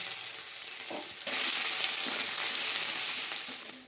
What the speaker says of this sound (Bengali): তেল গরম হয়ে গেছে, দিয়ে দেবো শুকনো লঙ্কা, দিয়ে দেবো গোটা জিরে, দিয়ে দেবো তেজপাতা, দিয়ে দেবো আদা বাটা।